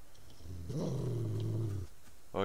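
A wolf growls in the survival video game Subsistence, a loud, close, rumbling snarl lasting about a second that ends in a sharper snap at the close.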